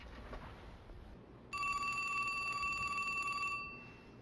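Telephone ringing with a bright, sustained electronic bell tone for about two seconds, rising out of a low background hiss and then fading back to quiet room noise.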